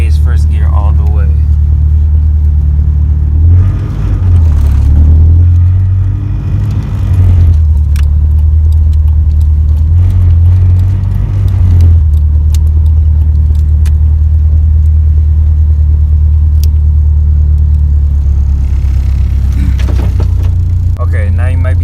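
A manual transmission car cruises along an open road, its steady low engine and road rumble continuous throughout, with a brief shift in engine tone early on and occasional faint rattles; a voice talks over it.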